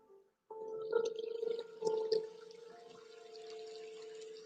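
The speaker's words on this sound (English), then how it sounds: "that one is just water" Running water plays gently for a meditation session, a steady soft trickle with a few brighter drips and splashes, faint and close, continuing after a brief quiet start.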